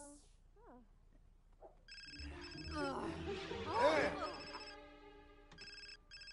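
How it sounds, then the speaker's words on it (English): An in-game telephone in The Sims 4 rings in repeated electronic bursts, fairly quiet, while a person talks over the middle of the ringing. "What's a phone ringing now for?"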